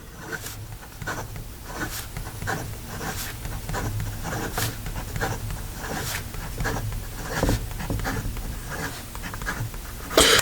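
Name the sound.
Montblanc James Purdey & Sons extra fine pen fast writing on paper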